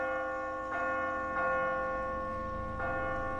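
A church bell tolls in The Walking Dead video game, three sustained ringing strikes spaced about a second and a half apart, each swelling and then lingering over a low steady background hum.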